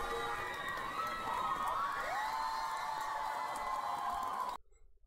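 An arena crowd at a concert encore in Warsaw cheers and whoops continuously, a bright, somewhat distant wash of voices with rising shouts, cutting off abruptly near the end.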